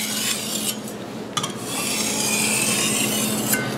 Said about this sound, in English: The 1200 will refine the scratches from the 600.